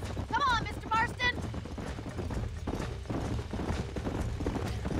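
A horse's hooves clip-clop steadily in Red Dead Redemption. The regular, close beat runs throughout under someone talking, with a few brief louder sounds near the start.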